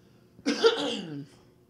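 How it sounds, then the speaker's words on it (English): A person coughs in one continuous burst lasting under a second, close and fairly loud, with quiet room noise before and after. "I don't know why I'm coughing so bad."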